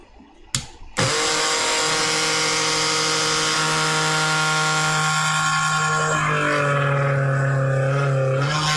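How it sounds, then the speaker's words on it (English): A power drill whirs steadily and loudly after a brief click, its motor tone holding continuously and shifting slightly in pitch as it bites. "we'll drill a little bit further"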